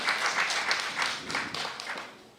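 An audience at an annual meeting applauds a speaker coming to the podium, a soft, steady patter of many hands clapping at a moderate distance that gradually fades.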